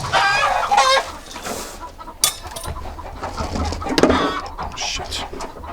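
Roosters and hens clucking and calling one another to feed on poultry pellets, a busy overlapping flock chatter with sharp bursts close by.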